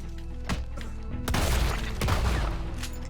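Gunfire in the Red Dead Redemption 2 video game: a few sharp shots, then heavy booming blasts with rumbling low end, loud and close, and no talking.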